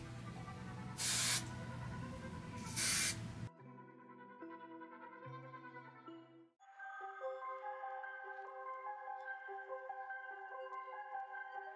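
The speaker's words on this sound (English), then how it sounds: "Put a little hairspray." Hairspray sprays onto a blonde wig in two short, sharp hissing bursts about two seconds apart, loud and close, with music following afterward.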